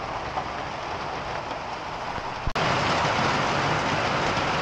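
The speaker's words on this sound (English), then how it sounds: "Holy shit though, it's raining." Heavy rain pours steadily on a farm, a dense continuous hiss across the whole stretch with one sharp brief knock partway through; no one speaks.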